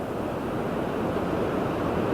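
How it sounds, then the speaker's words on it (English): Floodwater rushing across a highway during northern tier flooding, a steady loud broadband roar of moving water with no pauses, close and alone without talk. "as you can see right here with the way this water is moving, got a lot of force behind it"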